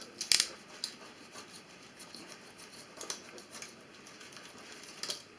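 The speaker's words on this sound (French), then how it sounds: "les bouts qui dépassent, vous les coupez simplement, hein, avec un cutter, une pince coupante" Leftover repair rubber sticking out of a punctured tyre is cut with a cutter or cutting pliers, giving a few faint, quick snips and clicks, the first one louder, with no talking.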